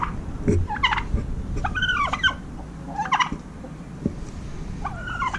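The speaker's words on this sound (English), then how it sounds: "This turkey thinks I'm a turkey now." Turkeys at a farm corn maze gobble and chatter in repeated rattling calls over a busy outdoor background, fairly close and loud.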